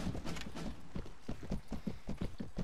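Horse hooves in the video game Mount and Blade Warband, a steady rhythmic galloping clip-clop of several close, heavy footfalls repeating throughout without talk.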